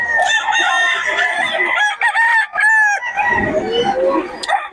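Several roosters crow loudly and repeatedly at a busy chicken market in Bocaue, with overlapping crows, clucks and fowl calls close by and no voices.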